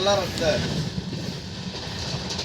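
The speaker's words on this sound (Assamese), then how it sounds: "আমাৰ ট্ৰেইন ষ্টাৰ্ট হৈ গ'ল, আমি গৈ আছোঁ পুৰীলৈ" Low rumble of a moving train carriage with faint rattling, while a voice speaks briefly over the noise at the start.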